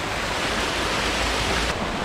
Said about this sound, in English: It only started raining like 20 minutes ago.